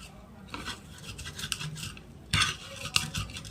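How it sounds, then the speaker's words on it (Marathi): Roasted chilies crushed with a stone pestle for a Maharashtrian mirchi thecha, with soft rubbing and grinding scrapes and a couple of sharper knocks near the end, close up with no voices. "वरुट्याने टेचून घेणार आहोत, बारीक करणार आहोत"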